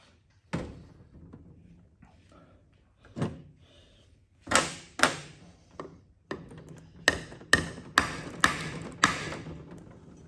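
Light metallic taps on a reservoir being nudged into line for its bolts, scattered single knocks at first and then a quicker run of close, sharp taps.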